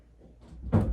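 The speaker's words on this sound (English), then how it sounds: "Door slam." A door bangs shut once, a loud, close thud arriving after a quieter stretch of faint room shuffling.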